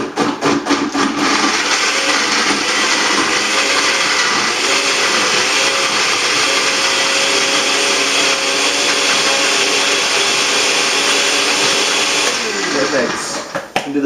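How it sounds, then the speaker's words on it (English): A countertop blender whirs steadily as it blends coconut with water for homemade virgin coconut oil, a loud, continuous motor drone with a slight dip in pitch near the end before it cuts off. "You don't want to stress out your blade or your actual motor on your blender."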